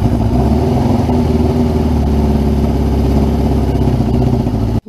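A Suzuki GS550 rat bike under restoration runs on choke because of an air leak, giving a loud, close, steady engine drone with a fast even pulse. The noise cuts off abruptly at the very end.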